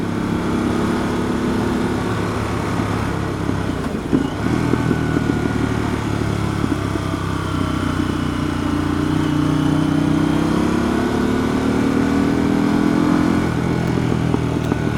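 A Harley-Davidson Pan America motorcycle rides steadily along a country road, its engine droning loud and close with slight pitch shifts as it holds speed, no voices over it.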